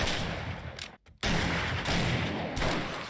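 Gunfire from a sniper in the video game 7 Days To Die, with a loud sustained burst of shots cut by a brief silent gap, then further dense firing and a fresh sharp report near the end.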